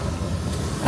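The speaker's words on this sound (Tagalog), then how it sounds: "Teka, may paparating na tren." An MRT train pulls into a station in Taipei, a steady low rumble of rolling stock across the platform, with a brief louder surge at the end.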